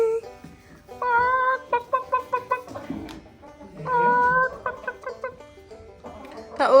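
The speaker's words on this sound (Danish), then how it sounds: "Kylling." Chickens in a henhouse on an old European farm, a group of eight hens clucking and calling in repeated bursts close by, with brief human voices in between.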